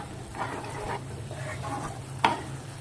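Food sizzles softly in a pan while a utensil stirs it in slow scraping strokes, ending with one sharp metallic clank.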